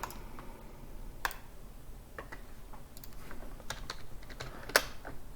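Fast typing on a computer keyboard while entering input for a Java program, a steady patter of soft key clicks with a few sharper, louder strikes, close and alone with no talking.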